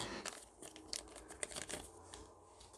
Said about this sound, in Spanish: Vale, cortamos el plástico.